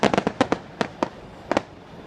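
Fourth of July fireworks pop and crackle in a loose cluster of sharp bursts, some doubled in quick succession, at moderate distance under an otherwise quiet night.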